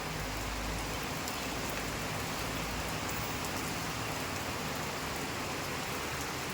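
Heavy rain pours down in a dense, unbroken hiss of drops striking surfaces nearby, steady throughout, with no voices.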